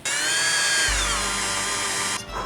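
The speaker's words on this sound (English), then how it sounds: "just drill through the roof" A power drill whines steadily as it bores through the roof of a mini trophy truck, a loud continuous tone that shifts pitch partway through and cuts off near the end.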